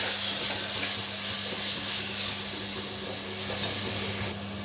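Minced mutton keema sizzles in a pan with onions, a steady close frying hiss with faint stirring, no voices over it.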